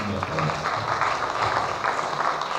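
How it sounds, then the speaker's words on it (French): A conference audience at an entrepreneurship event in Kinshasa applauds, a continuous broadband patter of many hands clapping that holds steady and fairly loud throughout, with faint voices underneath. "Est-ce que vous pouvez applaudir pour"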